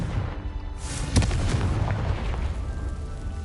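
A Confringo fire spell explodes in Hogwarts Legacy with a booming blast over the game's continuous rumbling background, with no talking.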